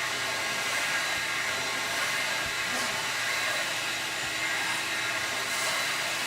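A carpet extractor's vacuum making dry passes over carpet, a steady loud hissing suction roar throughout at close range, with a few faint swells as the wand moves and no voices.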